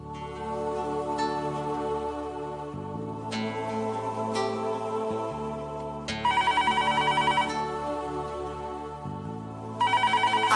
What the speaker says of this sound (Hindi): अरे फोन देखना, फोन आ रहा है